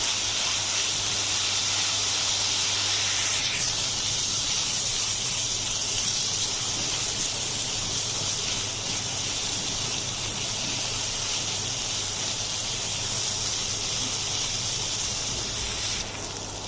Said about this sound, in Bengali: এখন আমি সবগুলো ইনগ্রিডিয়েন্টস একসাথে করে একটু হালকা ব্রাউন করে ভেজে নেব।